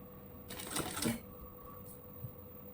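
A sewing machine stitches the hem of a ladies' designer pant in one short, quiet whirring burst of under a second, followed by faint room noise and a small tap.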